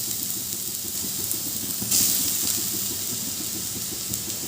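Grated sweet potatoes hiss and sizzle steadily in a hot pan with a bay leaf, with a brief louder surge of frying noise partway through and no voices.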